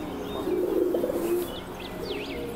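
A male Tieniu pigeon gives a single low, throaty coo up close, lasting about a second. Faint chirps from other birds follow in the background.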